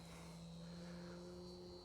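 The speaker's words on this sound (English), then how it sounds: "So Antonio, when you first take off on a brand new plane, what are you looking for?" ExtremeFlight 78-inch Extra NG RC model plane in flight on its maiden take-off, a steady droning engine hum with a sustained tone, continuous and fairly distant, no talking.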